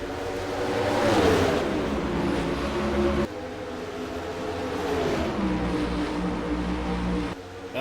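IndyCar race cars in the NASCAR Racing 2003 video game accelerate through turns at Watkins Glen, a loud, sustained multi-engine roar rising and falling in pitch as the field bunches together, with no talk over it.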